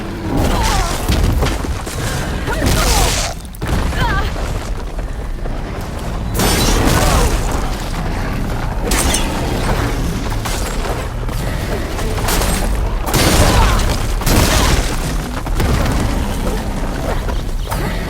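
Cannon fire in Horizon Forbidden West booms again and again in heavy bursts during combat. The explosions come close together over a dense layer of game sound.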